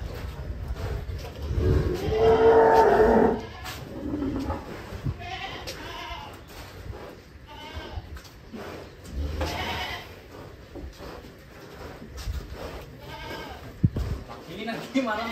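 Black Angus cattle loose from their pen on sandy ground give long, loud calls, with one strong bellow early on and weaker lowing later, while people talk throughout nearby.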